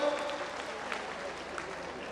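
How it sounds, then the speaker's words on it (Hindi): Audience at the Shravasti Mahotsav cultural festival stage event applauding steadily, a dense continuous wash of many hands clapping at a moderate distance, with a voice briefly audible over it. "अपने श्रावस्ती के लिए जोरदार तालियां आप लोगों से चाहूंगा मैं"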